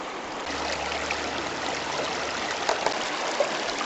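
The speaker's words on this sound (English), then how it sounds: "the water flows over the riffles" Stream water flowing over the riffles of a sluice box at a river bar, a steady close rushing and trickling with faint splashes and no talking.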